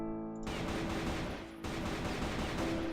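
Video game gunfire, rapid automatic shots fired through a board in a shooter, sounding as a dense loud burst that breaks off briefly around the middle and then resumes.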